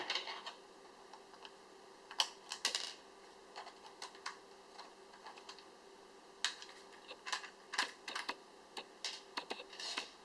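An Xbox controller being tapped so its screws drop out gives a scatter of faint, quiet plastic clicks and light rattles, irregular and close up.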